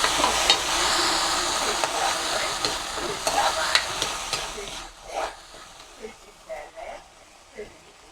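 Food sizzles and crackles in a hot pan as it is stirred, loud at first and then dropping to quieter scraping stirs with short pauses.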